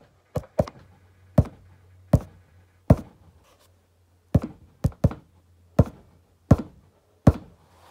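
A phone bouncing and knocking against a hard surface, a series of about a dozen sharp, loud, close thuds in an irregular rhythm with quiet gaps between.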